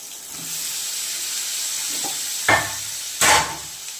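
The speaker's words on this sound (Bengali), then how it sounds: "এই যে চিকেন কষা চলছে" Chicken being stirred and fried with ginger-garlic masala and onions in a pan, a low steady sizzle with two louder scraping stirs near the end, no talking.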